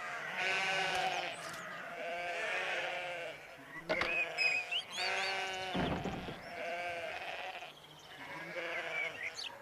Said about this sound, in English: A field full of sheep.